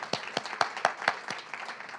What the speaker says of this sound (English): Maybe a big round of applause then for Versopolis.